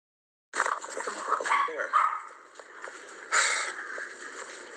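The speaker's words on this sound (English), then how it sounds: "There go Bentley. He barking again" A house dog barks and whines in the background while a person talks on a phone call, the yaps irregular and moderately distant beneath the voices.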